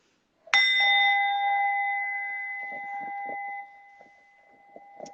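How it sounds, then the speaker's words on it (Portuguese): A small hand bell struck once for a meditation, ringing out clearly alone and sustaining a long, slowly fading metallic tone, with soft movement sounds as it decays. "Então, eu vou tocar o meu sininho aqui."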